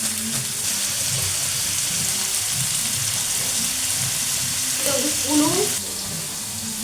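Onion, green chili and garlic sizzle and fry in hot oil in a pan, a loud, continuous hiss with occasional stirring scrapes while a person speaks briefly over it.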